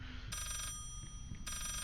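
A telephone rings inside the Layers of Fear horror video game, two bright electronic trill bursts separated by a short pause, heard faintly over a low rumbling game ambience.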